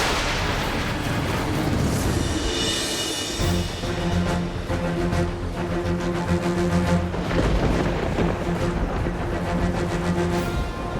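Rumbling explosion and burst effects in a fantasy action scene, dense and loud, with repeated booming hits and crackling layered throughout over a continuous roar.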